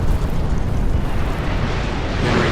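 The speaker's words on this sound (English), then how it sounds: "reaches his powder stores and he explodes" A warship's powder store exploding during a naval battle in the video game Napoleon: Total War, a loud, sustained rumbling roar of blast and debris filling the whole clip, no talk.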